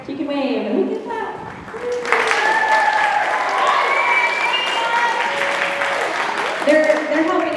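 An audience at a middle school spring orchestra concert breaks into loud, sustained applause that fills the room, and a voice talks over the start before the clapping swells.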